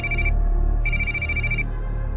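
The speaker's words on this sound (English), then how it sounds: "That's when my phone rang again" A phone rings in two bursts of electronic trills with a short gap between them, clear and fairly close, over a low steady hum with no talking.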